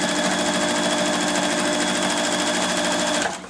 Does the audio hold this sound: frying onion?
no